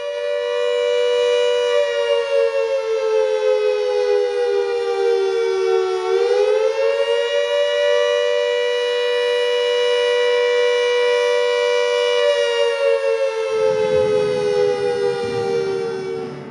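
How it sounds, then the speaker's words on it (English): A British WW2 civil defence air raid siren wails loud and steady, its rising and falling tone holding long sustained pitches with a dip near the middle, alone with no voices, with a low rumble joining near the end. "The wail of the air raid siren is for most British people of all ages the sound of"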